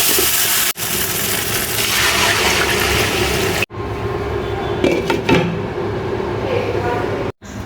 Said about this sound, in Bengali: এখন দিয়ে দেবো এর ভিতরে হচ্ছে পানি।